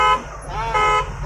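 A vehicle horn honks in two short, tonal blasts separated by a brief gap, loud and close.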